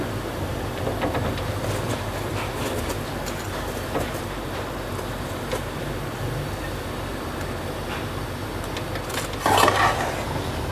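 Rice is tipped into boiling jaggery syrup in a pot and stirred, giving soft scraping and bubbling sounds with light clinks of a utensil against the pot and a louder clatter near the end.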